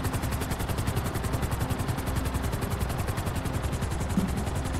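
A helicopter in Grand Theft Auto V: rapid rotor thumping drones steadily throughout, loud and close, with a gritty game-like engine roar and no talking.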